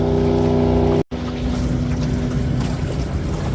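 A boat runs on an electric trolling motor with a steady close hum and wind rushing over the microphone, briefly cut by a dropout.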